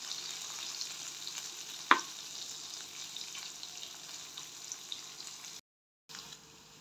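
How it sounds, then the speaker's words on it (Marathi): Paneer pieces frying in oil in a pan, a soft steady sizzle with a brief sharp clatter near the start and light stirring scrapes, fairly quiet and with no talking. "पनीर पण आपण चांगलं लाल बुंद होईपर्यंत भाजून घेणार आहे"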